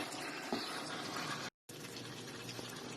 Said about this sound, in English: And then we can go on to add the cold water.